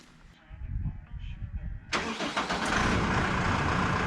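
A mid-size engine on a farm vehicle cranks and catches at about two seconds, then runs steadily and loudly at a constant idle, with low rumbling and some handling noise before it starts.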